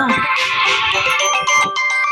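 A phone ringtone plays loud and close, a bright repeating electronic melody filling the short moment on its own without any talk.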